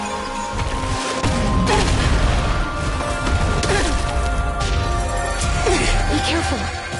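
Explosions detonating in Persona 4 Revival, heavy crashing booms layered under loud voices and game music throughout.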